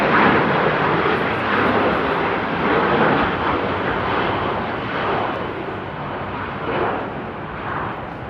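A loud airliner takes off at Amsterdam Airport, its jet engines a steady, heavy broadband roar that holds close and strong throughout with slight swells.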